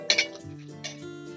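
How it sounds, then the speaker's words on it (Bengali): Metal spoon clinking against a pan while bay leaf pieces and spices are stirred for shukto, a few quick close taps followed by a quieter hum. "কিছুক্ষণ নেড়ে নেবো আমি।"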